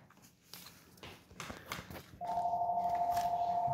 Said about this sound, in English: the phone keeps ringing in all our videos